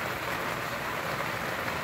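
Steady rain falling outdoors on a humid day, a continuous, even hiss of drops on surfaces with no breaks, fairly close and moderately loud, alone without voices.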